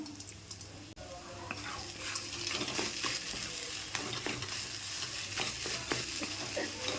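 Steady close sizzling as fried nuts are stirred in a frying pan, with intermittent scraping and a constant hiss running throughout.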